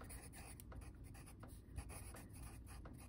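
Pencil writing on paper, a close, quiet scratching with a run of short strokes repeating in an uneven rhythm over a low background hum.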